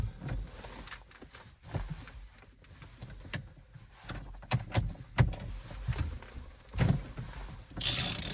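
A locking wheel bolt is undone from a BMW i3s steering wheel: quiet, intermittent mechanical clicks and ratcheting clunks come in short bursts close by, with no talking.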